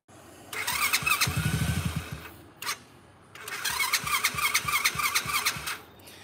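An engine cranks with a rhythmic starter chug, catches briefly and dies, then cranks again into a rough running roar, close and fairly loud, with no talking.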